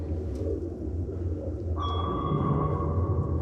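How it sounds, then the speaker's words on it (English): A steady, sustained American sonar ping rings out partway through over a deep, rumbling underwater background hum aboard the German submarine U-505, holding its tone to the end. "That pinging you're hearing is the sound of the American sonar."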